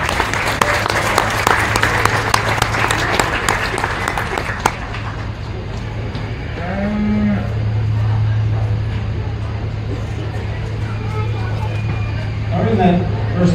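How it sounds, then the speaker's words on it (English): A county fair crowd applauds the kids in a market beef show, sustained clapping for about five seconds that then fades into an announcer's voice amplified over a PA. "let's give all those kids a round of applause"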